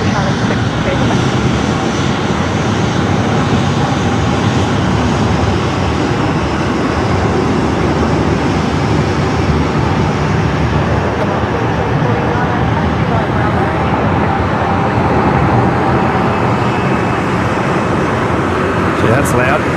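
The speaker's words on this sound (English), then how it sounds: "talk about reverse thrust from them tonight" Heavy airliner reverse thrust after landing at Brisbane Airport at night, a loud, continuous broadband roar that holds steady throughout and sits close and powerful, with faint voices underneath.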